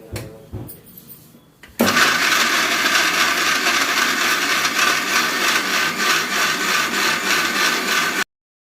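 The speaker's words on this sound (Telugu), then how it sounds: "ఇప్పుడు మిక్సీ పట్టించేసుకుందాము" A kitchen mixer grinder purees tomatoes into a paste for tomato pickle; after a few light handling knocks, the motor kicks in abruptly and runs as a loud, steady whirring grind for over six seconds before cutting off.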